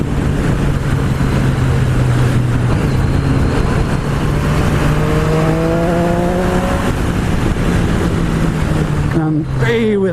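A Triumph Street Triple 765RS on Super Corsa tyres powers out of corners, its engine revving hard and climbing steadily in pitch, close and loud, before a quick gear change near the end.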